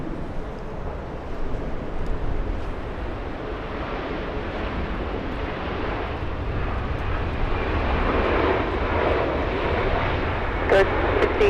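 A plane arriving at Los Angeles International Airport from Austin, Texas: a steady, broad engine roar with wind rumble that holds at a moderate distance throughout, with no voices over it.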